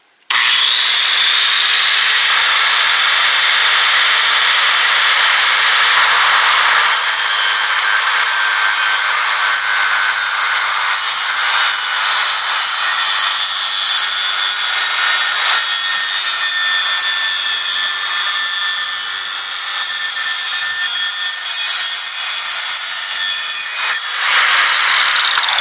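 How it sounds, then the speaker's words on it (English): A circular saw with its blade mounted backwards cuts lengthwise through skirting panels, set shallow so it stays clear of the concrete below. A loud, steady high whine holds for about 25 seconds, with no talk. "I'm not cutting down into my concrete with my circular saw"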